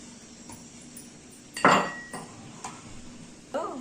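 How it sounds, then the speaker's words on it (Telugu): Green chilies pounded in a kitchen for sarva pindi give a few sharp clinking knocks, one louder strike followed by lighter taps, close by with no talking. "పచ్చిమిర్చి కొంచెం ఇలాగా దంచుకోవాలి పచ్చ పచ్చగా"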